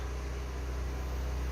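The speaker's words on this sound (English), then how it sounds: "So the generator is running, and I'm sure you can hear that in the background." A portable generator runs nearby with a steady, droning engine hum and low mechanical rumble, continuous throughout.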